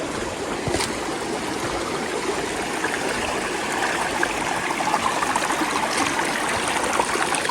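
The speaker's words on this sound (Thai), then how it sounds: "น้ำไหลคักขนาด" Water rushes strongly along a stream in a steady, full, close babble with no voices.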